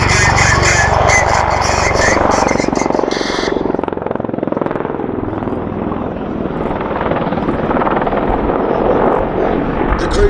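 An AgustaWestland Apache attack helicopter flies a display at an air festival, a loud, continuous rotor thump and engine roar that stays near and strong throughout as an announcer talks over it.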